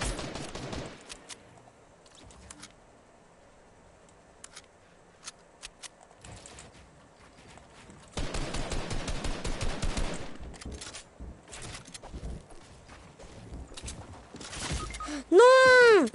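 Bursts of video game gunfire, rapid automatic fusillades and scattered single shots, with a dense sustained volley midway and a rising synthetic sweep at the end, heard quietly amid sparse background.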